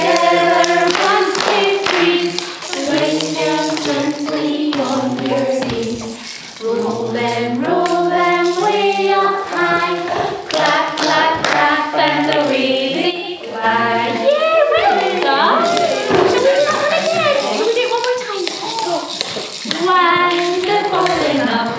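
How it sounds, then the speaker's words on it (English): Children and adults clapping hands at a Bookbug rhyme session, with repeated rhythmic claps in time with singing voices, steady and close throughout. "Clap your hands together."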